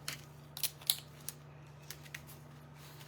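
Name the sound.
scissors cutting scrapbook paper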